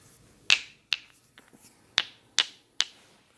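Five sharp, bright clacks of hard objects struck together, spaced irregularly, with a few softer taps between them in a quiet room.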